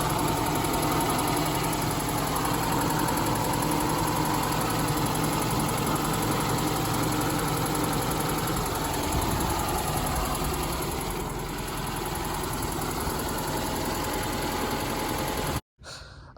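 Carbureted Volkswagen Gol engine running at a steady idle, a loud close continuous hum and rattle that holds throughout before cutting off abruptly at the end.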